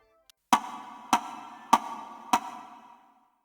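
An Ensoniq synthesizer wave sequence plays four evenly spaced conga-like hits, each a sharp percussive attack with a short ringing tail, clean and isolated against silence.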